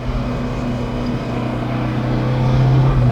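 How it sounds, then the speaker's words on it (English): An A112 Abarth, helmet-wearing driver aboard, runs on a racetrack with a steady, loud engine drone heard from inside the car, pitch holding fairly constant and rising slightly near the end. "I'm on the racetrack in the Abarth."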